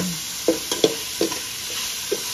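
Chicken feet being stirred in a pot for arroz caldo, with several soft knocks and scrapes of a utensil against the pot over a low, steady simmering hiss.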